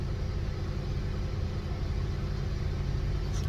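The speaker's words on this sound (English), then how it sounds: "Well, it's idling." A 2007 Chevy Aveo with a weak battery idles steadily, producing a low, constant engine rumble heard close with no talk over it.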